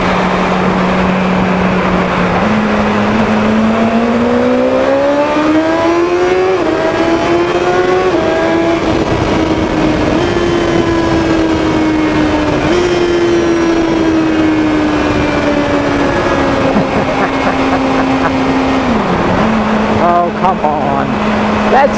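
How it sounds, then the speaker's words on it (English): A rider on a BMW S1000 XR motorcycle, visor cracked open, with constant loud wind roar buffeting throughout and the engine note rising and falling beneath it. "Forgive the wind noise."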